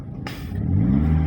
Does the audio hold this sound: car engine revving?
yes